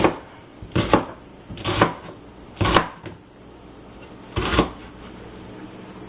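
A knife chops through an onion on a cutting board in four distinct, evenly spaced thumps, each a short crisp burst with pauses of quiet between them.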